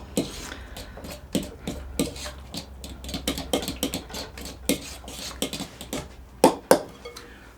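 A fork beats cheesecake filling in a bowl, striking the sides with quick, irregular metallic clinks and taps, close and fairly loud, with a few sharper knocks near the end.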